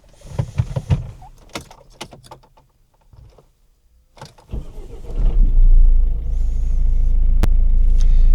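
A Volvo 1.6 diesel (D2) in a V50, S40 or C30 is started after an injector replacement. Clicks and handling noises come first, then the engine cranks, catches and settles into a steady, loud, close diesel idle.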